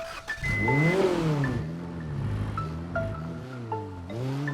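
A car in the video game GTA 5 runs steadily, its engine revving and shifting through gears as it drives off, loud and close, with a synthetic game-audio quality and no talk.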